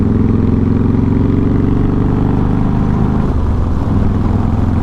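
A Harley-Davidson Softail Deluxe motorcycle engine runs close and loud, a deep uneven throbbing rumble that holds steady with a slight shift near the end, no talk.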